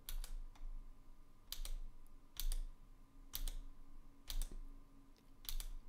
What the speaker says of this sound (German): Wenn ich jetzt zum Beispiel das Noise Gate ausmache und ich jetzt auf der Tastatur herumklimper,